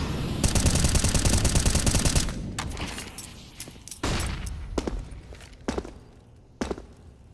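Rifle gunfire fills a Counter-Strike match: a dense, rapid stream of automatic shots for about two seconds, then scattered single shots and short bursts with quieter gaps between them.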